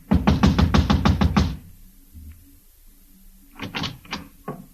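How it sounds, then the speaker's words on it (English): Rapid knocking on an apartment door across a hallway: a fast burst of about eight loud raps, a pause with faint shuffling, then several more scattered knocks, close and sharp. "I walked over and started knocking again."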